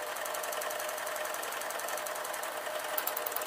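A sewing machine stitches fabric for an off-the-shoulder dress, a fast, even mechanical chatter running continuously at close range without pause.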